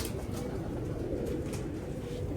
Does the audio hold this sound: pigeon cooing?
yes